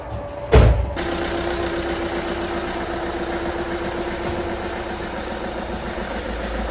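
A VW Caddy van engine kicks in with a short loud burst, then settles into a steady mid-pitched running hum as the vehicle rolls out after suspension spring, top mount and drop link repairs.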